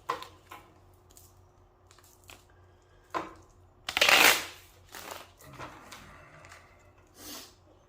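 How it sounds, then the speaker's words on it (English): Tarot cards are shuffled in a few quick, scattered bursts of riffling and sliding, one louder rustling flurry in the middle, otherwise quiet pauses between. "Let me give this one more shuffle."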